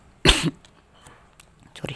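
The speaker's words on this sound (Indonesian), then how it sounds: "batuk" A single sharp cough up close, followed by quiet and a couple of faint small noises, then a brief soft sound at the end.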